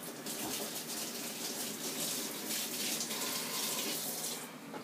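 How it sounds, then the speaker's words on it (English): A kitchen tap runs steadily while hands are washed beneath it, giving a continuous soft splashing hiss, fairly faint and without talk. "Let me just wash my hands."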